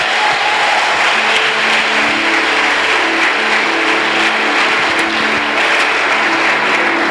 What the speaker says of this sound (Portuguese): Então forte aplauso a Jesus.